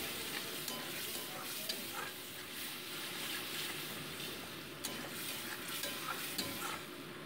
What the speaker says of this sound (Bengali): দিয়ে মোটামুটি এটাকে 2 মিনিটস আমি ভেজে নিচ্ছি